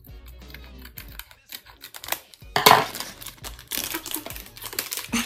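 Scissors snip and crinkle through a Japanese snack package, giving a run of close, sharp clicks and rustling plastic, with the crinkling getting louder toward the end.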